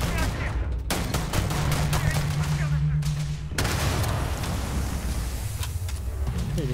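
Rapid automatic gunfire and a booming blast in the sci-fi game Starfield, dense loud bursts continuing throughout with a brief break, a voice speaking faintly underneath.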